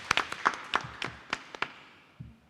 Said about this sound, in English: also deserves a round of applause